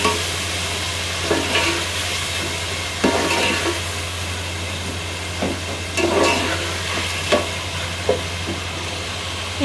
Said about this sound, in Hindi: अब मैं इसमें टमाटर और हरी मिर्चें डाल देती हूँ।